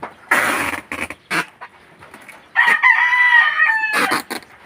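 A Golden Boy gamefowl rooster crows once up close, a loud drawn-out call, surrounded by several short clucks and scuffling bursts before and after.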